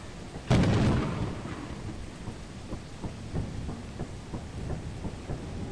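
A thunder crack in the video game Lethal Company, loud and sudden, then a long rumbling decay over steady rain-like noise, with no voices over it.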